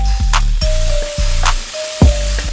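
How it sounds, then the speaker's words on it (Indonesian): Steady, loud sizzling of gochujang-coated food frying on a hot grill pan, with a rhythmic thumping music beat underneath. "ini suara grillnya aja bikin kita lapar"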